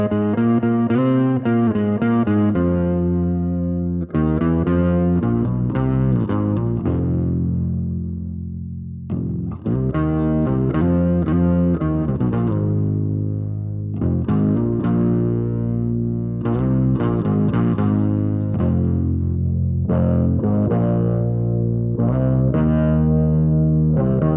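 Synth bass played through a Fractal FM3 with a Music Hall reverb, loud sustained notes and short phrases ringing into a wide, spacious tail, with distorted, chorused tones and no voices.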